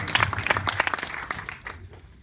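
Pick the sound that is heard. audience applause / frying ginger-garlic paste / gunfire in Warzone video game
audience applause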